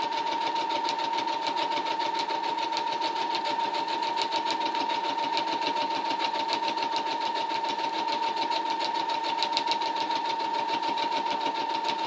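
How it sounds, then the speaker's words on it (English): Sewing machine stitching together a large pocket bow, running in a steady, continuous mechanical whir with a fast rapid needle rhythm and a constant hum, close and loud throughout with no talking. "I'm going to show you how to sew one of the big ones."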